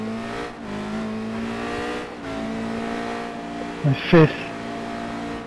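A Radical race car on the Zandvoort circuit accelerates up through the gears, its engine note climbing in steps with short shifts and a louder burst near the end, while someone talks over it.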